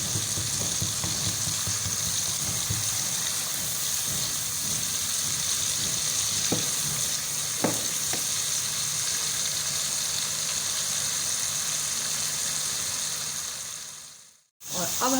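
Tomatoes softening in hot oil for chana pulao, a steady close sizzle and hiss throughout with a few stirring clinks, before an abrupt cut near the end.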